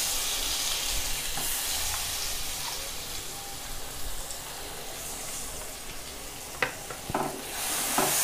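Green masala paste fries in oil with turmeric and asafoetida for mutton curry, giving a continuous close sizzle, with a few scrapes and clinks of a spoon stirring the pan near the end.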